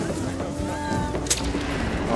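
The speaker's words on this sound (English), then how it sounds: "And that was a gunshot I heard. Silencer." Silenced gunshot from a TV drama scene, one sharp sudden crack cutting through background score and voices, with people talking around it.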